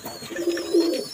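Teddy pigeons coo softly in a loft, a low rolling murmur swelling twice within about a second, fairly close with light background hiss and no voices.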